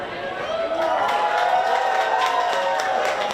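Studio audience cheering for a contestant in a live show competition, a sustained crowd roar of shouts and whoops with some clapping, steady and loud throughout.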